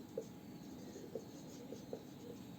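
A pen writes by hand during a geometry lesson, making faint, quiet scratches in short strokes against a hushed room background.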